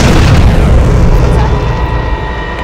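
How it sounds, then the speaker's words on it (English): Missile launch in an alien siege film: a loud, sustained roaring rumble with heavy low-end booms, steady throughout and slowly easing off near the end, with no talk. "They launched a missile."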